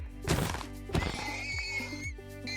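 A horse in the video game Minecraft neighs and whinnies twice in quick succession, a loud close call with a few hollow clip-clop thuds and no talking.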